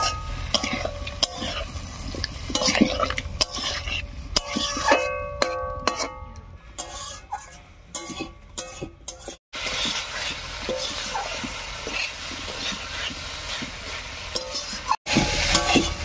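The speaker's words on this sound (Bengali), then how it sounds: "এবারে মশলা বাটা জল দিয়ে কষিয়ে নেব।" Ground spice paste thinned with water being stirred and sautéed in a pan for a Bengali paneer-ball curry, a steady sizzle with scraping and clinking of the spoon against the pan throughout.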